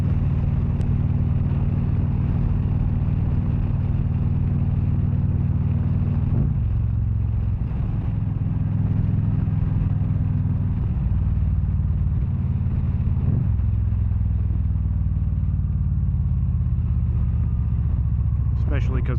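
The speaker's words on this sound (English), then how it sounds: "Man, that wind is strong." Strong wind buffeting a rider on a 2013 Victory Cross Country touring motorcycle on an open, treeless road, a steady loud roar over the engine's low rumble lasting throughout, with a shift in engine note partway through.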